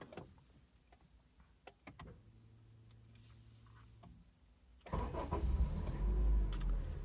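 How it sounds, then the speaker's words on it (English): A car fires up through a remote starter, with faint clicks and relay ticks first and then the engine cranking and catching into a louder steady idle nearby. "And now I can remote start the vehicle."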